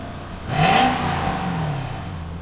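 A drift project car's engine revs up through a choking muffler, its pitch rising in a quick surge before settling into a steady, whirring drone nearby.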